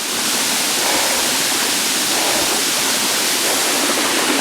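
Buttermilk Falls waterfall rushing beside a high creek, a loud, dense, unbroken roar of falling water close by, with no voices.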